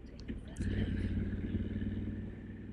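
Motorcycles queue at a ferry terminal on the way to Norway, a low rumbling engine drone that swells after a moment and holds steady, with speech over it.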